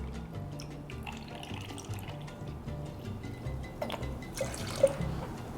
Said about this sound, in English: Next up, we're gonna do fresh lime juice.